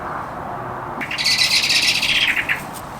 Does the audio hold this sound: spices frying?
no